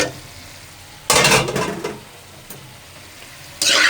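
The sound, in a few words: fried meat added to sizzling tikka karahi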